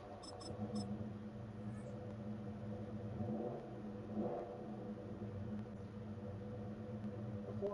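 A Chevelle with a 454 big-block engine rumbles steadily after start-up, a low continuous drone that swells briefly around the middle as it revs.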